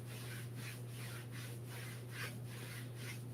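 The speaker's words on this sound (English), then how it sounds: "rubbing with the heel of your hand" The heel of a hand rubs over the belly during a qigong exercise, making a soft, rhythmic scrubbing of about seven even back-and-forth strokes. The sound is very quiet over a low steady hum, with no talking.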